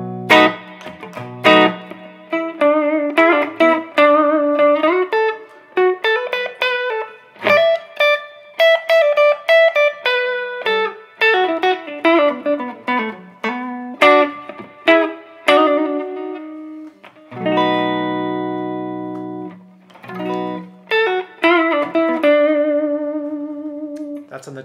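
A Gibson Les Paul tribute electric guitar with Lindy Fralin hum-canceling P90 pickups plays through a Quilter Aviator Cub 1x12 combo amp on its tweed setting, loud and close, with chords, single notes and ringing sustained tones alone.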